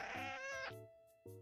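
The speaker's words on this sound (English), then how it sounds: "Oh, they have cat sounds." A cat meows in a video game, two drawn-out, clear, tonal mews close up, separated by a short gap, with nothing else heard.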